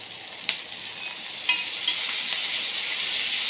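Onion and tomato pieces sizzle in a pan for a spicy chicken curry, a steady frying hiss broken by a few sharp scrapes and taps of stirring, close and clear.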